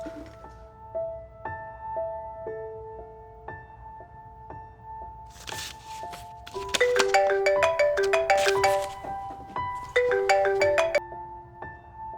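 A phone ringtone plays as a bright electronic melody of clear repeating tones, soft at first, then louder and fuller with chiming notes, looping for several seconds in a quiet room.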